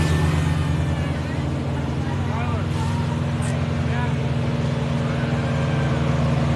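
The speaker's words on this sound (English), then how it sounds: "Wow, the buses." City buses drive past a protest outside a Church of Scientology, giving a continuous low engine rumble and traffic drone while people talk nearby.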